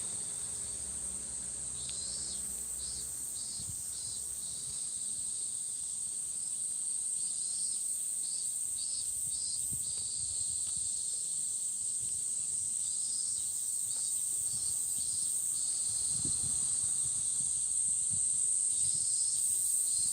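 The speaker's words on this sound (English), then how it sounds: "Now, Cammy, can you hear the cicadas?" Cicadas in a Tokyo park produce a loud, unbroken high-pitched drone that holds steady throughout, with faint pulsing calls and soft footstep-like rustles beneath during a walk.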